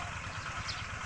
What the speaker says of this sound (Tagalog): Naririnig nyo yung mga makina na umaandar. Yan patubig yan sa mga tanim dito sa paligid ko